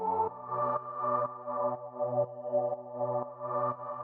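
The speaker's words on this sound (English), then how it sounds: "the last thing that we have here is this pad" Sustained synth pad from a melodic house track, warm chord tones held with a soft pulsing rhythm that swells and dips in steady bars, playing alone at moderate level.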